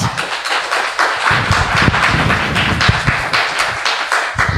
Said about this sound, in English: please give a big round of applause to moderator and also speaker